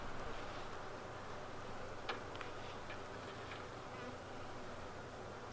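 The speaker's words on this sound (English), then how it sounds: "These are good working bees" Honey bees in a hive split hum as a steady, soft, close-up buzz, with a few faint clicks and ticks sounding over it.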